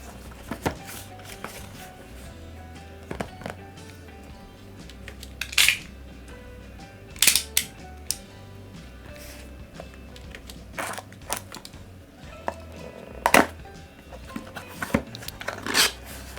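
A Hikvision 5MP dome camera box being opened by hand makes scattered cardboard and plastic rustles, taps and rubbing clicks at close range, with several sharper crinkles in bursts and quiet gaps between them.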